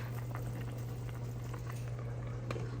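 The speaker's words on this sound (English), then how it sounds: "Guys, it's boiling right now." Water boils steadily in a pot of chicken adobo with jalapeno, a continuous bubbling simmer heard up close and on its own, with no talk.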